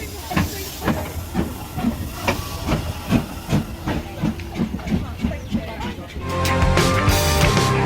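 Steady rhythmic clatter of a moving train on the Embsay and Bolton Abbey Steam Railway, heard from first class, then a loud burst of hissing steam from the steam locomotive near the end.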